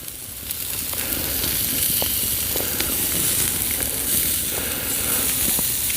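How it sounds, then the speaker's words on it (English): A thin ribeye steak sizzles and fries in a pan on an old stove, a steady, close crackling hiss with small pops running throughout without pause. "So this is actually a thin ribeye, so it's going to cook rather quick."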